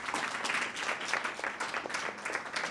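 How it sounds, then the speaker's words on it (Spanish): Applause at a Spanish-language academic gathering on youth and education, a fairly soft but continuous patter of many hands clapping together, steady from start to finish with no talk over it. "le damos su aplauso"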